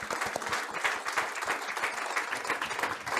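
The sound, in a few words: audience applause for Dr. Elisa Stevens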